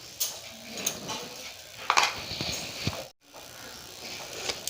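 Batter for beguni, Bengali battered eggplant fritters, is stirred in a bowl after a spoon of baking soda goes in, giving soft scraping and clinking with a few sharper knocks and a brief silent gap.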